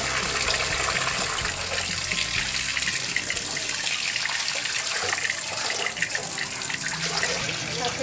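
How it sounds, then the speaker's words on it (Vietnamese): Red tilapia is rinsed under a running tap, a loud, steady gush of water splashing into a sink that continues without a break from start to finish. "mình rửa lại nước sạch"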